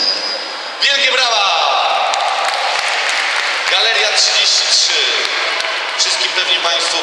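Loud crowd applause at a children's charity event, a sustained wash of clapping that swells after a brief quieter start and stays strong throughout, with some voices blending in.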